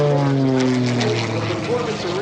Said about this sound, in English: Look at that 90-degree upline as Britt Lincoln climbs once again for her next figure.